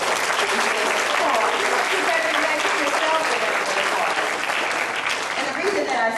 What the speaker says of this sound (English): give yourselves a round of applause for the effort you took.